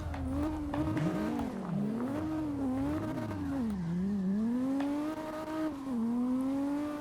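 A Lexus LFA engine wails and revs up and down through a drift in the CarX Drift Racing video game, loud and continuous, its pitch rising and falling with the throttle.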